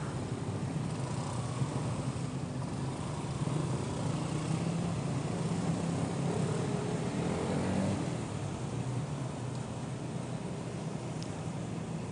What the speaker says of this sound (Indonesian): Ini macet lampu merah bung.